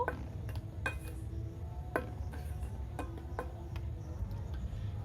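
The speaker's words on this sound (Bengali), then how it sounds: "এবার ভালোভাবে মিশিয়ে নেব" Snack batter ingredients with salt, turmeric powder and baking soda are stirred in a bowl, giving irregular clinks and taps of a utensil against the dish, fairly close, with no talking.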